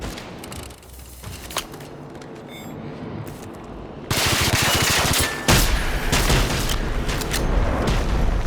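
Weapon fire in the video game Generation Zero: a few scattered shots, then from midway a dense, loud barrage of rapid overlapping bursts and booms.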